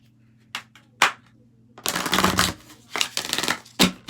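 Tarot cards being handled and shuffled up close: a few separate sharp riffles, then a longer dense flurry of papery shuffling, followed by more quick riffles, with no talking.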